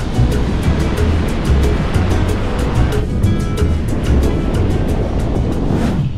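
Sea surf rolling onto a beach in Puerto Rico where the water has swallowed the old shoreline, a steady loud wash of breaking waves with rumbling low churn filling the whole stretch, no voices.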